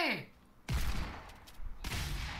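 Bursts of gunfire in Fortnite, two dense rapid volleys of shots separated by a short gap, loud and close, following a brief sweeping in-game sound.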